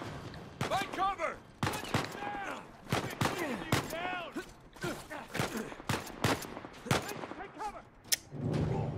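Sniper gunfire in the video game Uncharted 4: A Thief's End: sharp, loud shots crack irregularly throughout, mixed with urgent shouting voices.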